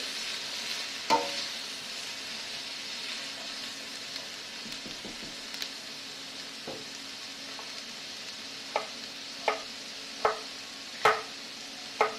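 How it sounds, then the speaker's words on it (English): Chicken and dumplings stirred in a pot: a faint low sizzle under a series of sharp spoon knocks against the pot that grow more regular toward the end, with no talking. "I'm going to give it a little stir."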